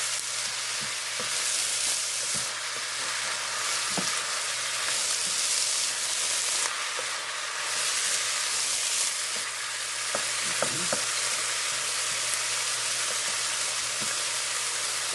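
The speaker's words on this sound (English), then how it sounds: "we're going to let all of this kind of saute down." Chicken with green, yellow and orange peppers sautés in a pan, giving a steady moderate sizzle with occasional utensil clicks and scrapes from stirring, and no talk.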